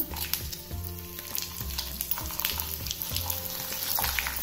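Urad dal and dry red chillies fry in oil over a medium flame, a steady close sizzle with soft crackles and rhythmic stirring scrapes in the pan, no voices.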